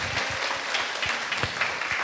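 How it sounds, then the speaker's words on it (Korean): Congregation clapping in a church during a Sunday worship service, a short, fairly quiet burst of dense applause. "주께 영광의 박수를 드리겠습니다"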